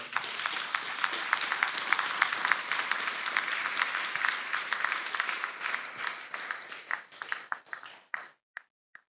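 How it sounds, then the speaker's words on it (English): An audience at an evening talk event breaks into sustained applause, dense and steady for around eight seconds before thinning out into a few scattered final claps. "I think we need an applause for Maksym for tonight."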